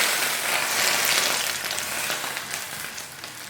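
Very hot oil poured over steamed fish topped with coriander, soy sauce and hot pepper, giving a loud, steady crackling sizzle that slowly fades, no talking.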